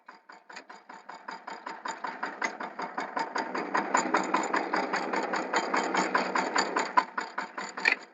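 A small mini tractor engine runs close by with a rapid, regular chugging pulse that grows steadily louder and stays even, with no talking over it.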